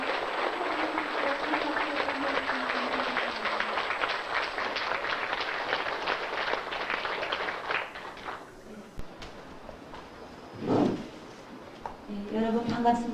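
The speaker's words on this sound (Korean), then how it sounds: "먼저 영광의 박수를 드려드립니다" An audience at a Catholic hall applauding, a steady mass of claps under some background voices for about eight seconds, then dying away as a speaker begins talking.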